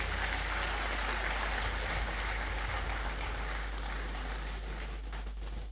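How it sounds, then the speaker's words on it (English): Applause from the audience at a university graduation ceremony in a large hall, steady continuous clapping throughout, fairly even and somewhat distant, with a low hum underneath. "Another round of applause for them,"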